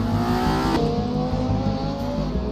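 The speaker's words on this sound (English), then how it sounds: "Love listening to these cars go around the circuit." Race cars lapping Croft Circuit during a British championship race, a loud continuous engine drone with shifting revving tones, close and unbroken.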